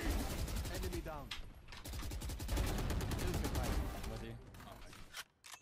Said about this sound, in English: I'm just shooting through smoke.